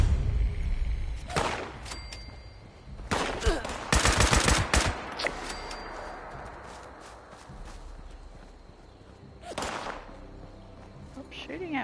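Gunfire in the video game Fallout 76 comes in several bursts of rapid shots, loud and close, with a long gap before a final burst near the end; footstep-like clatter runs between them.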